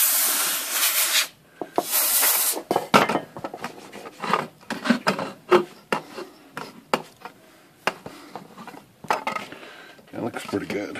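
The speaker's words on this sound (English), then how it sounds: "Clean this trim up here." Cloth scrubbing along the painted lid trim of an Olympia SM typewriter, close, in repeated short rubbing strokes with brief pauses between bursts.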